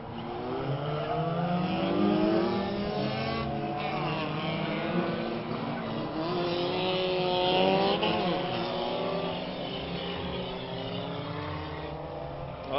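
Race cars roaring around the oval at Orange Show Speedway during a Barber Pole Race, engines droning and shifting pitch continuously as several cars pass at close range, loud and steady with no talk.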